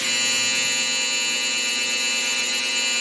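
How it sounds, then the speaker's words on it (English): A clothes dryer's end-of-cycle buzzer drones loud and steady for the whole stretch, a harsh continuous electronic buzz rich in overtones, heard alone without any talking. "That's my dryer. I didn't realize the buzzer was still on."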